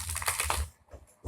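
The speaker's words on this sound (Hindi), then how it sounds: "चलिए एक बार शफल अच्छे से कर लेते हैं" Tarot cards are shuffled during a reading, with a quick burst of crisp, riffling clicks and flutters close by, a short pause, then one more snap.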